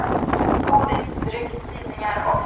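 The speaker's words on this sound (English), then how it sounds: "The wind is pretty vicious out here." Strong gusty wind buffeting the microphone on the deck of a ship leaving Visby, Gotland, a rough continuous roar with faint talk underneath.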